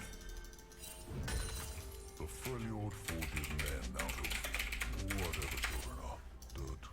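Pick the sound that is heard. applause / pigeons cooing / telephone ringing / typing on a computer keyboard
typing on a computer keyboard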